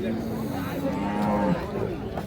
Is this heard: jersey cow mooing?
yes